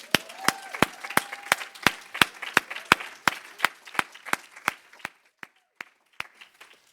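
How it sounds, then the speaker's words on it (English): Clapping at a school's State of Our School address comes as a steady run of sharp, separate claps from a small group. It thins out toward the end, leaving a few last claps. "Please join me in a round of applause for our teachers."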